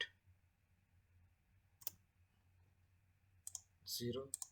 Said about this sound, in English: Double click on it.